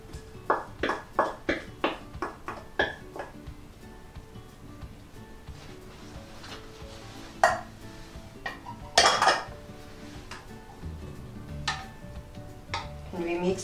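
A spoon clinks and scrapes against a bowl while chicken macaroni salad with pineapple tidbits and onion is mixed, with a quick run of taps at first, then scattered knocks and a voice murmuring faintly in the background.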